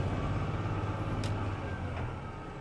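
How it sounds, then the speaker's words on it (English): A heavy truck with an Eaton Fuller 18-speed transmission rumbles steadily as the driver skip-shifts from 6th direct to 7th direct, the engine note dipping briefly mid-shift. "I'm going to skip shift from 6th direct to 7th direct."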